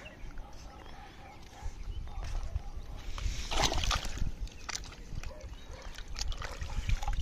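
Giant clams are rinsed in seawater at the seashore, giving continuous close sloshing and splashing with a louder burst of splashes midway over steady outdoor background noise.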